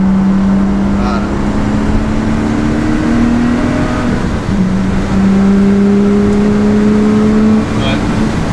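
Lotus Exige 350 Sport engine pulling steadily from inside the cabin, a continuous droning tone that climbs and shifts through gears, loud and close throughout.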